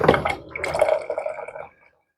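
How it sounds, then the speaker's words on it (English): Water pours into a container for a chicken marinade, a close, short splashing fill lasting under two seconds before stopping. "I'm going to fill up the water probably 1/4 of the way."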